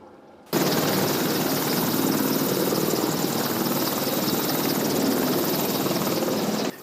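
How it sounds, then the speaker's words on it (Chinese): An AH-64 Apache attack helicopter lands during a military demonstration, giving a loud, steady roar of rotor and turbine that starts abruptly and holds close and unbroken to the end. "这架阿帕奇攻击直升机也稳稳的降落"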